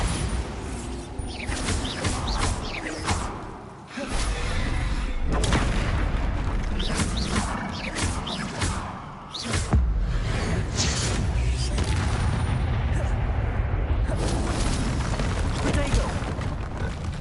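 Repeated Bombarda spell explosions in the video game Hogwarts Legacy boom loudly among other spell blasts and combat clatter, with shouted voices over the dense fight.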